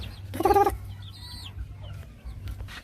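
Rhode Island and brown neck chickens cluck in a short burst near the start, followed by softer scattered bird calls and faint farmyard noise over a low steady hum.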